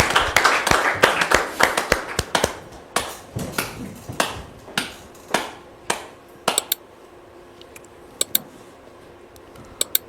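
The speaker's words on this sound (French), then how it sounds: "Recevons maintenant Dame Regina Bierou sous vos applaudissements, s'il vous plaît." A church audience applauds to welcome a guest, with dense clapping at first that thins out into sparse, distinct individual claps trailing off over several seconds.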